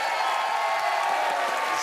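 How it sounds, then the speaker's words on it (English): Studio audience at a TV soap quiz show applauding, a dense, even burst of clapping with faint cheers, steady for under two seconds. "please keep that applause going for the very brilliant Charlie Hardwick"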